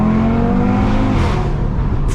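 A 570 hp Audi RS3 accelerates hard with the roof open, its engine roaring loud and close in a steady, rising drone that holds for about two seconds with no talk over it.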